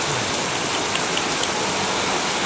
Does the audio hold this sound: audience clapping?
no